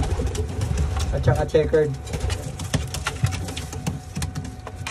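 Pigeons coo steadily in a breeder loft, close and continuous, with someone talking over the birds throughout.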